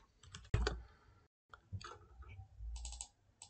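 A computer mouse or keyboard gives a few quick, faint clicks up close in a quiet room, with no one talking.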